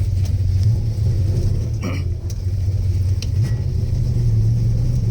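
A 1969 Plymouth Barracuda with a 383 engine and four-speed gearbox drives along, its steady low engine rumble droning close and loud throughout, with a brief lighter clatter midway and no talk.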